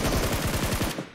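A SCAR assault rifle in PUBG Mobile fires one fast, steady full-auto burst of about a dozen loud, close shots, cutting off abruptly after about a second.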